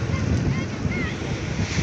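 Steady roar of surf washing onto Jimbaran beach in Bali, broad and continuous, with some wind buffeting the microphone.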